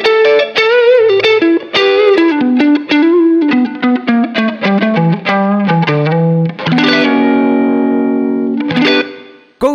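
An electric guitar played with a 10 peso coin in place of a pick, run through a distorted effects unit with chorus, gives a steady run of loud plucked notes and chords, ending on a long sustained chord, a short gap and a final strike.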